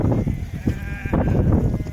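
A large flock of Qızıl Qulaq sheep with lambs bleats in overlapping calls. The bleating is close and steady over a dense background murmur of the herd, with no talking.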